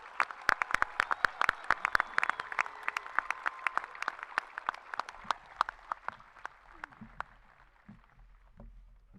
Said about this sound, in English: Let's give these scholarship recipients a round of applause.